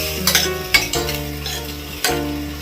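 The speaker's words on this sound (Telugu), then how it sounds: "ఇప్పుడు అనపగింజలు బాగా వేగాలి" Field beans (anapa ginjalu) being stirred and fried in a pan, with scraping utensil strokes and a low steady sizzle, a few louder clanks standing out; no talking.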